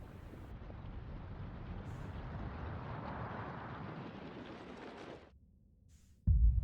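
The sun explodes in the space exploration game Outer Wilds, a deep, roaring rumble that swells for about five seconds, cuts away, then bursts back in with a loud low boom.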